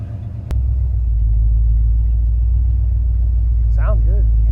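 Ford Galaxie 500 V8 on its first test drive with no working brakes, a deep loud rumbling idle that starts abruptly and holds steady, with a voice briefly heard over it near the end.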